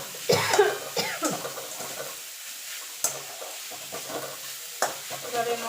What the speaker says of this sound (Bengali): এবার ফুলকপিটা গ্যাসটা কিন্তু জোরে রাখতে হবে